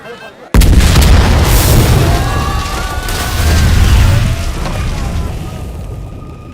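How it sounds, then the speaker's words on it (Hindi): A bomb goes off at a collector's office with a sudden, very loud blast, followed by a heavy rumble that lingers for several seconds. "सर, टनकपुर के कलेक्टर ऑफिस में धमाका हुआ है।"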